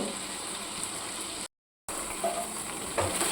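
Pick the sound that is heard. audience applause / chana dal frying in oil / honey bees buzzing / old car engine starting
chana dal frying in oil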